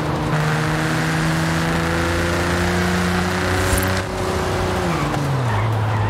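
A Nissan GT-R R35 Nismo sports car engine in Forza Horizon 5 hums steadily at low revs, around 3000 rpm, its tone holding level before dropping lower near the end, with no talking.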